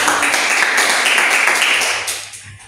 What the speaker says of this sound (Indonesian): Tepuk tangan dong, berhasil